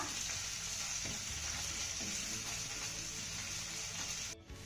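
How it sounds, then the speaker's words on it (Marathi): Cumin, grated ginger and garlic sautéing in a pan, a faint continuous sizzle with soft periodic stirring scrapes, ending in a brief dropout. "हे सर्व साहित्य आपण अर्धा मिनिट चांगलं परतून घेऊया"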